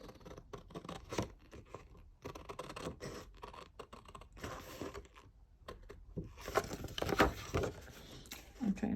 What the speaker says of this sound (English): I like to use a different pair of scissors.